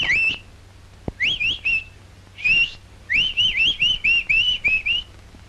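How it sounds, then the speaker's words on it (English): Birdsong in a 1938 London film, offered as a nightingale: clear, bright whistled phrases repeat in a steady rhythmic series of short upward-sliding notes, close and prominent, with a brief pause midway. "Ever heard the nightingale?"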